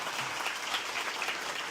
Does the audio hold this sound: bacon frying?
no